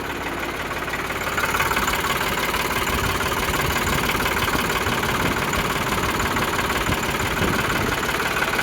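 A New Holland 3600-2 tractor diesel engine idles steadily at close range, a low rumbling chug with a mechanical knock that holds constant throughout.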